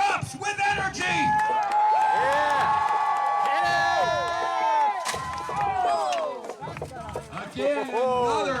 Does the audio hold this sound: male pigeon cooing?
no